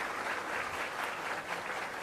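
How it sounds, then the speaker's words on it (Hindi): An audience gives steady applause welcoming a guest at an official government event, a brief, continuous wash of many hands clapping at moderate distance without voices. "आप सब तालियों से अभिनंदन करें"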